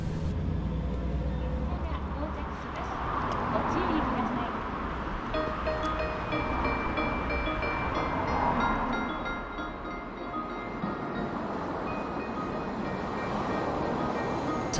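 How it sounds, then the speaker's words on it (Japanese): A JR local train pulls into a small rural station near Shimonoseki, a steady low rumble that builds and holds close by for about fifteen seconds, with some faint tonal squeal on top. "さて、やっと電車が来ました。"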